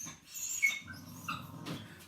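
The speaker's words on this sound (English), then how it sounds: "He's crying over a ball." A dog whines in short, thin, high cries over a ball, sounding close with quiet pauses between them and no talking.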